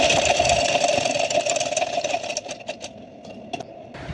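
Sewing machine stitching a baby frock, running in a steady mechanical whir that slows and stops into a few separate clicks near the end.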